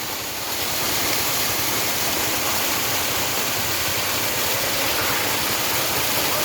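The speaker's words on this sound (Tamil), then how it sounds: "இங்கே பார்த்தீங்கன்னா அந்த மலைப்பகுதியில் வந்து ஒரு சின்ன அருவி தோன்றிருக்குது." A small waterfall on a hillside in the Chitteri hills near Dharmapuri pours in a steady, dense rush of water, close and constant throughout with no other sounds standing out.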